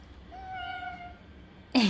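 A cat gives a single clear, drawn-out meow at close range indoors, followed by a sudden loud noise at the end.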